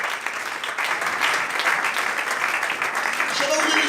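A church congregation applauding and cheering in acclamation of God at a worship service, a dense sustained roar of clapping and voices filling the room throughout.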